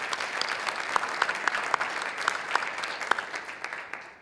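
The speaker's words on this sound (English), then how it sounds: "just another round of applause for decades of leadership to our county." Applause at an annual recognition and awards meeting: an audience claps steadily, with a few sharper individual claps standing out, before the sound tapers off toward the end.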